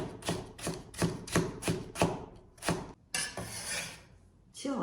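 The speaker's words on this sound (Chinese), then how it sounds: "胡萝卜呢是我提前已经去皮的，然后呢也给它切成薄片，然后我们再给它切成细丝" A knife chops a peeled carrot into thin strips on a cutting board, a steady run of crisp, close taps in quick rhythm, pausing briefly before a few scraping cuts.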